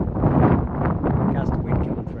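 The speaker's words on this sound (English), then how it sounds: "Gust of wind coming through." Wind gusts across an exposed mountain crest, a loud rough rumbling buffet on the microphone that holds for about two seconds.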